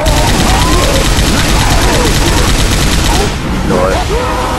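Rapid rifle gunfire in the video game Left 4 Dead 2, loud and continuous bursts filling the whole span, briefly thinning near the end before resuming, with game noise mixed in.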